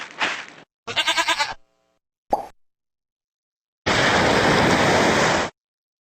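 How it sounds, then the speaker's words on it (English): A single goat bleats in a few loud, wavering bursts with short gaps, followed by a pop and a longer steady burst of noisy sound; no one speaks over it. "A goat."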